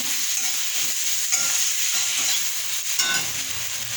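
Potato and tomato curry frying in a pan as a little water is poured in, a continuous bright hiss and sizzle with faint scraping, fairly loud and unbroken.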